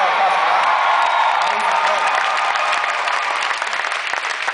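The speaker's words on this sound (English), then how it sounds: "So let's give her all a applause for that." Dense audience applause with cheering and whoops fills a hall at a USANA Health Sciences success-story event, loud and steady throughout before tapering slightly at the end.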